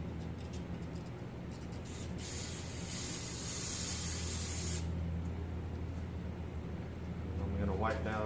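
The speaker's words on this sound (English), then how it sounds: "So I'm just taking a shop towel, hit it with some brake cleaner." Brake cleaner sprays onto a shop towel in one strong, hissing burst of about two seconds over quiet workshop background noise, with someone talking at the end.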